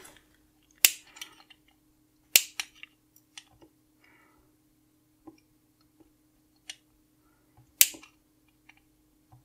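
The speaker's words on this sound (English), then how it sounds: "Okay, and cut these pins off." Flush cutters snip component leads after soldering on a small space modulator circuit board, giving several sharp, isolated clicks spaced seconds apart over a faint steady hum.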